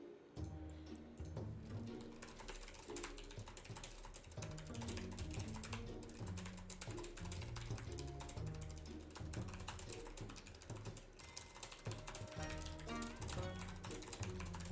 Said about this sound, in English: You hear that typing?